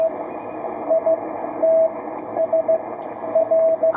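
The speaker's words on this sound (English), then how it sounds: "rig can handle this static." Static hiss comes from a Ten Tec Paragon ham radio transceiver running 100 watts, steady and moderate, with faint Morse code tone pips cutting in intermittently.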